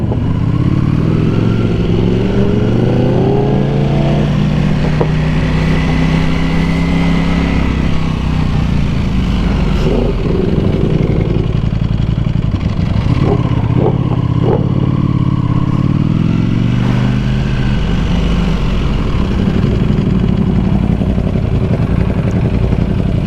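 A sport motorcycle that spits flames revs hard nearby, its loud engine note rising and falling in repeated sweeps over a steady idle, with a few sharp pops and crackles, and no talking.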